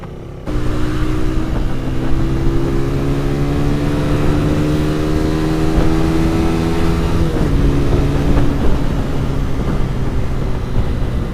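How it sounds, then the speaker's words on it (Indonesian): A 2014 Suzuki Satria FU motorcycle engine is held at high revs, giving a steady, smooth droning whine that shifts pitch slightly near the end, with no talking. "ini motor juga getaran mesinnya halus. Di RPM tinggi pun halus getaran mesinnya ya"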